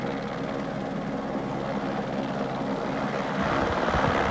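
A helicopter idles on a landing pad in a high Himalayan village on the trek to Everest Base Camp, giving a steady whirring rotor drone at moderate distance that grows slightly louder toward the end.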